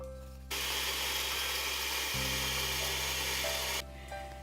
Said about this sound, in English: So here I'm using a blender